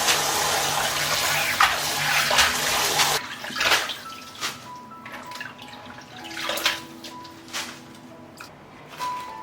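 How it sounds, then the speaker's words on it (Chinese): Bamboo leaves being rinsed under a running tap, a steady gush of water for the first few seconds, then quieter splashing, sloshing and scattered drips and clatters as the leaves are handled in the sink. "把叶子摘下来清洗干净。 这叶子很脏的，我们要多洗几遍。"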